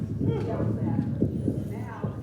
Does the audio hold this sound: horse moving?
yes